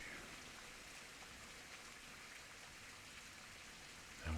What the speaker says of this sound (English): only the whisper of raindrops remains